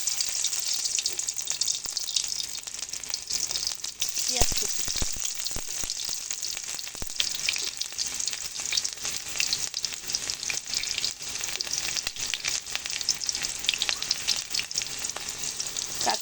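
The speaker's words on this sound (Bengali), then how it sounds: "তেলটা খুব ভালো করে গরম হয়ে গেছে এবার আমি দিয়ে দেবো রসুন কুচি" Chopped garlic frying in well-heated oil gives off a constant, loud sizzle with occasional stirring clatter, spitting and crackling steadily throughout with no one talking.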